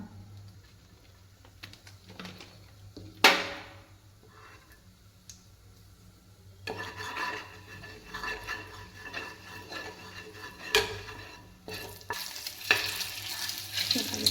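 Hot oil frying for egg curry in a home kitchen, a soft continuous sizzle with occasional sharp spatters and pan clinks, growing busier and louder in the second half.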